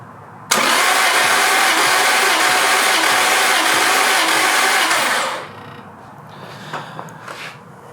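A turbocharged Lexus IS300 engine cranks over on the starter for a compression test with oil added to a cylinder. It gives a loud, steady mechanical whir for about five seconds, then cuts off to quiet shop noise with faint clicks.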